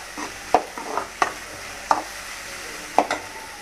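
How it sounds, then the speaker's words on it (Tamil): Garlic, green chili and onion sauté in a pan for tomato rice, with a soft sizzle broken by about five sharp spatula knocks and scrapes spaced unevenly. "கொஞ்சம் நல்லா வதங்கட்டும் இந்த பூண்டு, பச்சை மிளகாய், வெங்காயம்."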